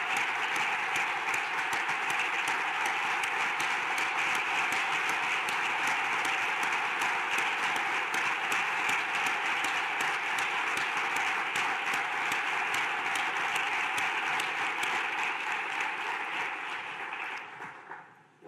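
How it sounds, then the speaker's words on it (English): A conference audience gives a sustained round of applause for four speakers, a dense steady clapping that holds evenly for most of the time before tapering off at the end. "give them a loud round of applause"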